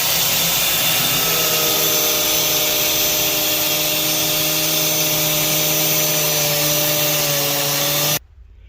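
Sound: cutting a pipe while replacing a Fiat Ducato heater core

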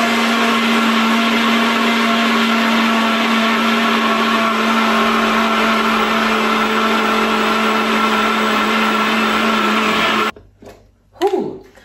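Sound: blender milling 200 grams of oats into flour

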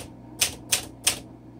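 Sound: typing on a 1951 Smith Corona Silent vintage typewriter

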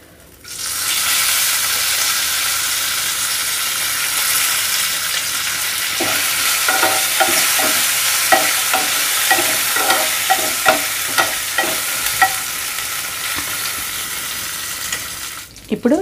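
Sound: curry leaves frying in hot tempering oil

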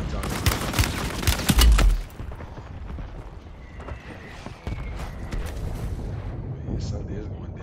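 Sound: gunshots, someone shooting at the speaker

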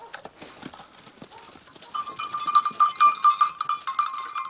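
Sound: goats coming when called

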